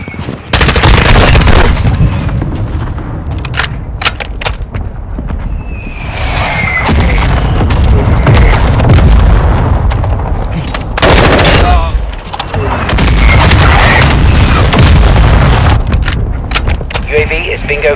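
Mortar strike explosions and heavy gunfire from the video game Call of Duty: Modern Warfare 2 crack and boom repeatedly over 18 seconds, loud and dense, with radio-style voice callouts running underneath.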